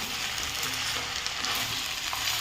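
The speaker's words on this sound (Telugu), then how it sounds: "ఆయిల్ పోసి చిక్కుడుకాయలు వంకాయలు కొంచెం ఫ్రై అయిన తర్వాత" Broad beans and brinjal fry in hot oil in a village kitchen, giving a steady, close sizzling hiss that runs evenly through the whole short stretch with no talking.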